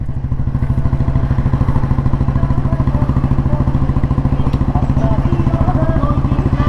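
A 1957 Royal Enfield Bullet G2 vintage motorcycle runs with a loud, steady single-cylinder thump, its rapid even beat pounding close by with faint mechanical clatter over it.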